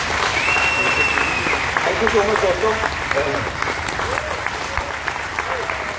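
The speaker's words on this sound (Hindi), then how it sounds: "जोरदार तालियां" Audience applause at a Pehchan event in Vadodara, a dense, steady wash of clapping from a crowd lasting throughout, with a voice speaking over it near the start.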